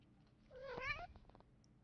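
A cat gives a single clear meow, close and fairly loud, rising then falling over about half a second with quiet background before and after.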